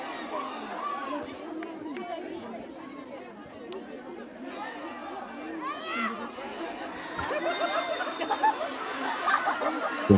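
A crowd murmurs, chatters and cheers at a Bhutan Premier League football match between UGYEN Academy FC and TENSUNG FC at UGYEN Academy, first as a steady background bed that grows louder and livelier near the end.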